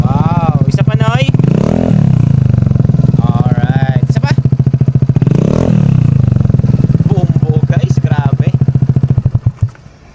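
Suzuki Burgman Street scooter fitted with a full system muffler, revving hard in two loud throaty bursts over a steady rumbling idle, close up, settling and cutting out at the end.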